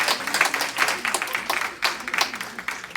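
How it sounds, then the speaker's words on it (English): An audience at a church gathering applauding in uneven bursts, claps swelling and fading in waves, fairly close and loud. "Round of applause to Mr."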